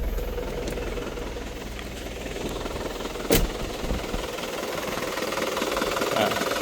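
An Isuzu Panther LS turbo diesel engine idles close by with a steady, rough low rumble and a rapid knock, broken by one brief sharp bump partway through.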